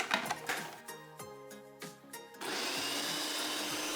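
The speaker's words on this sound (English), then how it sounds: "Blend the batter for a few minutes until smooth." A food processor blends oat flour dog treat batter, first churning in uneven lurches and then settling into a steady, loud, continuous whir.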